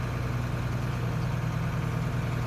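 A farm tractor's engine runs at a steady low idle, close and continuous, with no voices.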